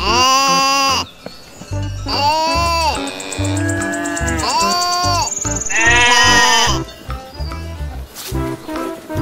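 Fat sheep on a farm give several loud, drawn-out wavering bleats one after another, close by, while a person talks in between and over them during feeding.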